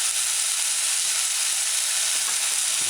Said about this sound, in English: Stir it in a few times.